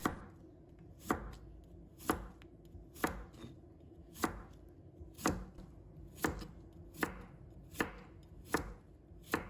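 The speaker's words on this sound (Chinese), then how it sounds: "再准备一条黄瓜，把它切成片" A knife slices a cucumber on a cutting board in about ten evenly spaced, sharp chops, close and clear, with a low kitchen hum in between and no talking.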